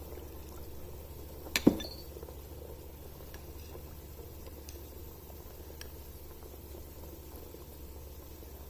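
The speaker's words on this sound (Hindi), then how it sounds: "अब 2 से 3 टेबलस्पून कॉर्नफ्लोर ले लेना है और इसमें पानी डालकर मिक्स कर लेना है।" Water is poured into two to three tablespoons of cornflour and mixed for chicken corn soup, heard as a quiet, steady liquid trickle with one sharp clink early on.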